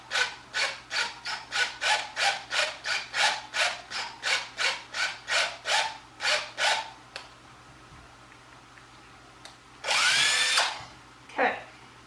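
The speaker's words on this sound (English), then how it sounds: "Re-drill a little." Short repeated bursts of drilling into a wooden garden sign, about fifteen quick rhythmic pulses close by, followed by quieter handling noises and a brief louder whir near the end.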